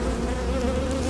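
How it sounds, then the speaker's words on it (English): Dense, steady buzzing of many honey bees busy around a hive during a spring hive split, a continuous close-up drone with a tonal hum holding level throughout, no voices. "The bees are rolling right now"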